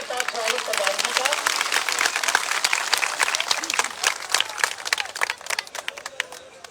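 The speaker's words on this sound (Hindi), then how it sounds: "जोरदार तालियों के साथ स्वागत प्रधान जी का" Sustained, dense applause from a large crowd at a BJP election rally fills the whole stretch, greeting a village head as he comes up to speak.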